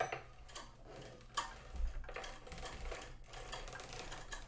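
An antique hand-cranked sock knitting machine turns one full round, a near, quiet run of rapid mechanical ticks and clicks from the needles with a soft clunk partway through and no talk.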